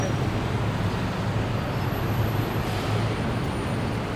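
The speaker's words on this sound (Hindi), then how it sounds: "इतना ट्रैफिक है, कोई हॉर्न नहीं बजा रहा है कोई भी, और कितना शांत हो रहा है" Bangkok city traffic makes a continuous, even rumble of passing vehicles with no horns sounding, a steady low hum throughout and no voices.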